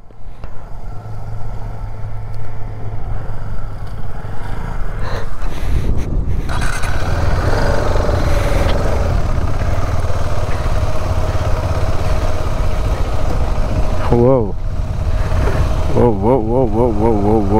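Motorcycle engine pulling slowly in first gear across soft mud near Kelwa Beach, a steady low mid-range drone throughout with a brief swell partway, while people talk over it.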